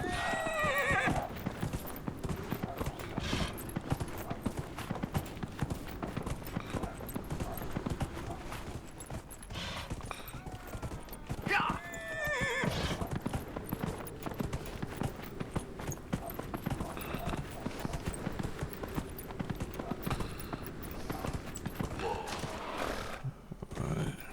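A horse in a video game gallops with rapid clip-clopping hooves throughout, punctuated by two loud whinnies near the start and midway, with continuous game background sound under it.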